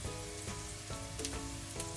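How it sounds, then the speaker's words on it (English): Steady, quiet sizzling of dumplings frying in a pan, a constant crackle close by with faint tonal hum in the background and no talk. "So we've been frying for about 5 minutes now."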